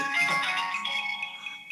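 A phone call rings out, a steady electronic ringtone with sustained tones and short repeating pulses, fairly close and clear, with no talking over it.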